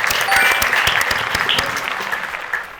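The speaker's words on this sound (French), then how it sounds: "Encore une fois, acclamation pour Joseph." An audience at a Bible memorization quiz breaks into applause, a burst of dense, close clapping that holds steady and then gradually tapers off.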